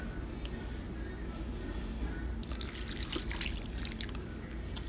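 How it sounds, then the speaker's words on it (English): Regular Tropicana orange juice splashing into a dish of candied yams, a brief soft pour that rises partway through over low background noise. "So I'm gonna put like a splash of orange juice."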